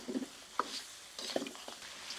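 Crab pieces tossed into a masala gravy and stirred in a pan, a few scraping clinks and stirs over a soft background sizzle, close and fairly quiet.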